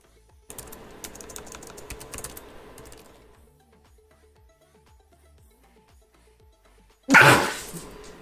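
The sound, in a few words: sneeze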